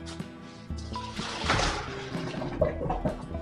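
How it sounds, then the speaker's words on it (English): Hot water from boiled blue swimming crab poured from a pot into a kitchen sink, a broad splashing gush that swells midway and stays loud to the end. "Pour it into the sink."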